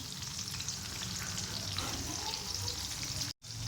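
Steady sizzling of chopped tomato and green chillies frying in a hot pan, continuous and close, with a brief dropout near the end.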